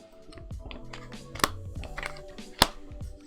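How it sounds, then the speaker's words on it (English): A computer keyboard is typed on with quick, irregular key clicks and a couple of sharper taps, close and moderately loud, with faint background sounds between keystrokes. "I'm typing it out."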